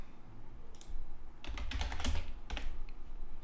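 Computer keyboard typing, close and clear, with a few isolated clicks followed by a dense burst of rapid keystrokes and a short final flurry.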